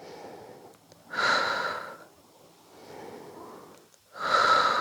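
Close breathing during a Pilates exercise with an elastic band: deep, airy breaths in and out, a loud one, a softer one, then another loud one, with no talk.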